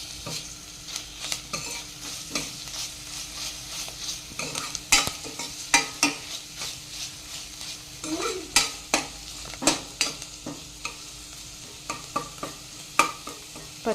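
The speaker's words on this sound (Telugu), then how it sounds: "ఆనియన్ మంచిగా ఫ్రై అయ్యాక ఒక 1/2 స్పూన్ జింజర్ గార్లిక్ పేస్ట్" Onion with ginger garlic paste frying in hot oil for dal khichdi, a steady close sizzle broken by repeated sharp scrapes and knocks of a spoon stirring through the pan, no voices.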